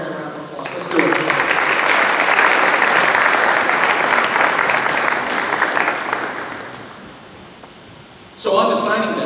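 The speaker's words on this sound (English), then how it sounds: "You guys, let's give our parents a round of applause." Sustained applause from an audience gathered for a high school athletic signing day, loud and steady for several seconds before fading, with a voice cutting back in at the end.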